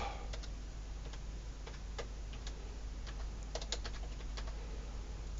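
Keystrokes on a computer keyboard typing text, scattered clicks in short bursts over a steady low hum, fairly quiet and close.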